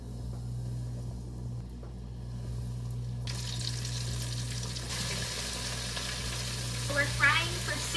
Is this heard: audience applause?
no